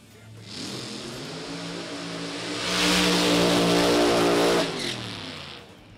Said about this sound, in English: Top alcohol funny car qualifying.